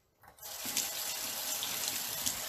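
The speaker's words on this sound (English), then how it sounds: "get that rinse off with some cold water, really inside of that root" Cold tap water runs into a kitchen sink, rinsing salmon held in a strainer, starting abruptly after a brief quiet moment and then gushing steadily at moderate level without speech.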